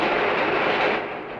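The Commonwealth Railways Tea and Sugar Train thundering along its desert line, a loud, dense, continuous rumble and roar close by, with no voices.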